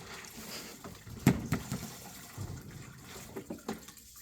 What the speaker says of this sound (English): And then I rinse. And when I rinse, I make sure I rinse it really good. And squeeze it very thoroughly.